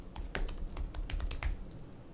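Steady, close-up typing on a computer keyboard, a continuous patter of light clicks with no gaps and no voice.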